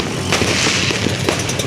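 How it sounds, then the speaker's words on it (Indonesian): New Year's Eve fireworks and firecrackers over Manokwari city, loud repeated bangs and crackling bursts filling the night air in quick succession. "Kota Manokwari dipenuhi dengan petasan"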